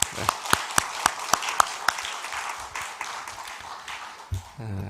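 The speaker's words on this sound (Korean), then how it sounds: "격려하는 또 마음으로 박수 한번 하겠습니다" A church congregation at an early-morning prayer service claps, with a few sharp, rhythmic claps first, then looser scattered applause that continues until a voice begins to speak.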